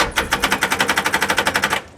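A custom-built car's engine cranks on jumper cables, the starter spinning it in a fast, even chatter of about a dozen rapid beats, loud and close, then winding down, with no talking.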